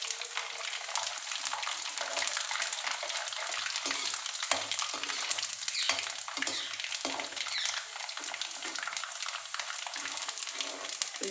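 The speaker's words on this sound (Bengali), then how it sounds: "নারকেলটা ভেজে দিয়ে দিলাম।" Home-dried coconut slices fry in hot oil while making homemade chanachur, giving a continuous soft crackling sizzle with faint stirring scrapes, fairly quiet and steady.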